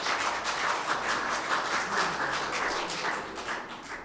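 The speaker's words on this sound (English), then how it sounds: "so that deserves a round of applause" Audience applause at a students-versus-faculty quiz bowl event honoring a team's national championship finish, a steady, moderately loud wash of many hands clapping that runs the full length and tapers slightly at the end.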